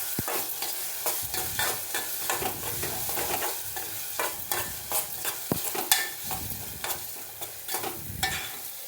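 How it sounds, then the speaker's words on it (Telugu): Gongura leaves are stirred in a hot pan with a steady sizzle close by. Repeated scraping and clattering strokes of a spoon run throughout with no talk. "గోంగూర వేసుకున్నాక బాగా తిప్పుకోవాలి"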